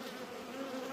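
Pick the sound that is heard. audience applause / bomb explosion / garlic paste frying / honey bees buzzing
honey bees buzzing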